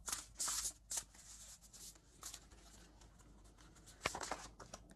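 Oracle cards shuffled by hand in quiet bursts of soft riffling and patter, close and faint, with no talk.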